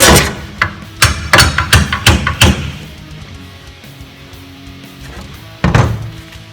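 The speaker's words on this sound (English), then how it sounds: "It looks bad because my hammer's dirty and it's leaving marks all over the metal." A hammer strikes a metal pipe in a quick cluster of sharp ringing blows, then a pause, then one more hit; close and loud.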